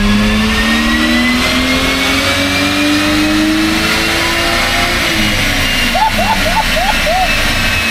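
A car running on E85 fuel revs hard through a full pull on a dyno, the engine note climbing steadily and staying loud and close throughout, with people talking over it.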